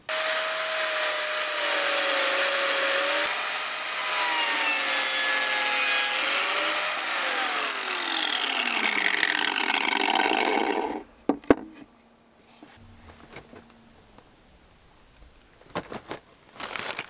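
A power drill bores holes in 3/4 inch plywood during a camper van build, a loud continuous whining grind with shifting pitch for about eleven seconds, then it cuts off, leaving scattered handling knocks and faint rustles.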